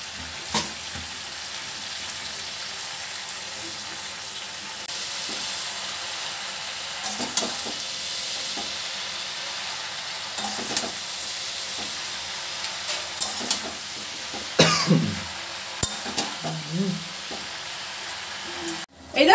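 Leafy greens hiss and sizzle as they are stir-fried with spices in a pan, a steady frying crackle with occasional clinks and scrapes of stirring, faint talk underneath.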